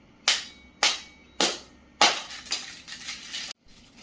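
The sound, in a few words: Easter egg being cracked open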